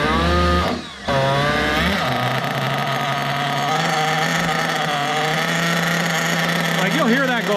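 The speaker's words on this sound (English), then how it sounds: "So I'll fire it up here." Small nitro RC engine firing up during break-in, a loud, close, buzzing high-revving whine that holds fairly steady after a brief dip near the start, with the pitch wavering slightly toward the end.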